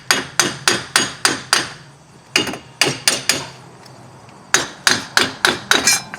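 Metal hammer blows ring out against a corroded wheel hub stuck on the axle of a 2003 Chevrolet Impala, loud and close in two quick rhythmic bursts of about six strikes each, separated by a pause of lighter tapping.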